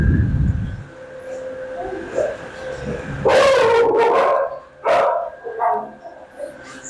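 Dogs bark from kennels in an animal shelter, with sharp barks and yelps echoing off hard walls, some close and loud, others further back, while someone talks over the din.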